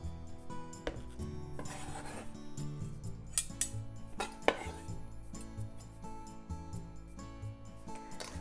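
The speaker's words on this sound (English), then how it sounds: "Toss everything well with the dressing at the bottom of the bowl." A daikon salad is tossed with its dressing in a bowl: soft rubbing and scraping with intermittent clinks of utensils against the dish, close up and fairly quiet, with no talk.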